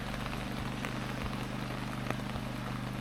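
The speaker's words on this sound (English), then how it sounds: "It has been raining all morning." Rain falls steadily on a summer morning in the Idaho mountains, a constant hiss of drops spattering on surfaces with a low background hum, close and even throughout, with no talk.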